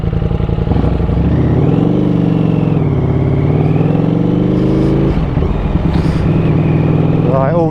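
A Ducati Streetfighter V4S motorcycle engine switched into race mode, loud and close, holding a strong steady drone that rises in pitch with throttle and then drops back, with a brief chirp near the end.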